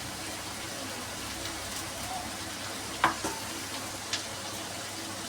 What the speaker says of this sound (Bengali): পেঁয়াজ বাটা দিয়ে এখন লতির সাথে সুন্দর করে ভেজে নেওয়া হবে।